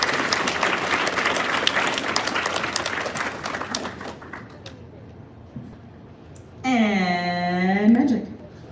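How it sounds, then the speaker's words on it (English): Audience applause at the IFC 2019 convention closing ceremony, a broad wash of clapping that rises and thins over several seconds before fading, after which a loud, close voice cuts in over the tail. "Can we get a big round of applause for Drake"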